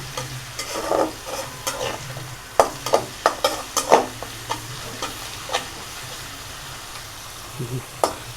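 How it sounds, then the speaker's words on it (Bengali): Onions frying in oil in a pan, softening until the raw smell goes, with a steady close sizzle broken by several sharp clinks and scrapes of a spatula stirring through them. "পেঁয়াজটা ভাজতে হবে যতক্ষণ না কাঁচা গন্ধটা যায়"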